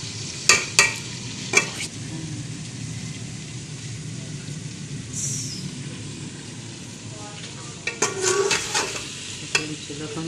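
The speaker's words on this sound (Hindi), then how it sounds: "सालन को हिलाते रहना है और देखते रहना है सालन नीचे ना लग जाए" A spoon stirs mungre curry in a pot over a village cooking fire, making sharp scraping clinks against a steady low sizzle, with faint talking in the background.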